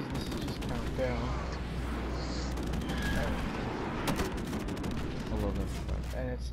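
Dense, rapid gunfire from an MP5 submachine gun in a Call of Duty-style video game, with bursts of shots running almost continuously over a steady game-noise backdrop.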